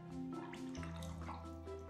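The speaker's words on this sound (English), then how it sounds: "I add some water to favor granulation" Water being added to watercolor paint, soft dripping and wet trickling close by, with faint tonal hum in the background.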